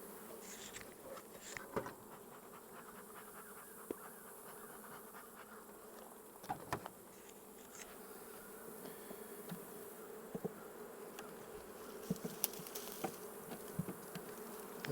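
Honeybees buzzing steadily around a hive frame of freshly drawn comb during a hive inspection, a close, continuous hum with occasional louder passes of individual bees near the microphone.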